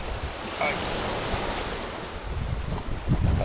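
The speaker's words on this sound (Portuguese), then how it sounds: "A ventania, o mar tá meio virado ainda." Wind buffets the microphone over rough, churning sea waves on the rocky coast of Costeira das Cigarras, São Sebastião, Brazil, with gusty low rumbles and surging water that swell louder toward the end.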